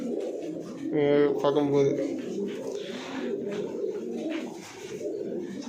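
Pigeons in a loft coo repeatedly in close, steady calls, with bursts of wing flapping, while someone talks over them throughout.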